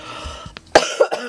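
A person coughs several times in quick succession, close to the microphone, in a quiet indoor room during a scrapbooking unboxing.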